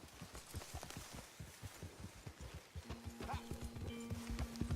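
Horse hooves clip-clop at a steady walking rhythm in Red Dead Redemption 2, close and distinct, with a low in-game musical tone entering partway through.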